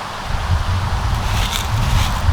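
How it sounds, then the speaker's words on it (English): Wind blows outdoors during an evening Samhain ritual, a low rumbling buffet against the microphone with soft rustling over it, steady and fairly loud for a couple of seconds. "This is gonna be tough with the wind."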